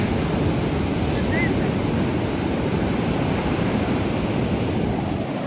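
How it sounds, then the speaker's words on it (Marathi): Big sea waves roll in as a steady, loud roar of surf mixed with strong wind buffeting the microphone, continuous throughout with no clear individual breaks. "बापरे खूप मोठा लाटा आहे"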